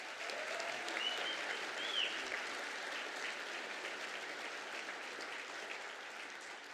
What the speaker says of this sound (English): We might give them a round of applause.